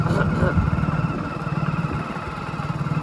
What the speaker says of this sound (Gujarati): તો આપણે હળવે હળવે બાઇક હાંકવાનું થાય છે